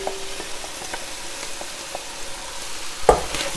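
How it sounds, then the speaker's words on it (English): Quiet stirring of browned bolognese meat sauce with cooked vegetables and lardons in a pan over high heat, soft scraping and faint sizzle with light clicks of the spoon and a sharper knock near the end. "Just going to stir everything together"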